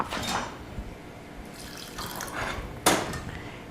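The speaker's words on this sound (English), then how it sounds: "And pour orange juice over the top." Orange juice is poured over cranberries soaked in dark rum with orange zest, giving a soft, continuous splashing trickle with a few sharper splashes near the end.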